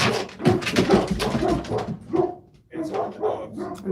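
Dogs bark and yip in a quick burst, fairly close, mixed with an excited whimper and overlapping a voice at the end of a birthday message.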